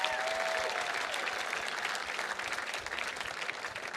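Gala audience applauding in a large room, sustained dense clapping from many hands, fairly distant and even throughout.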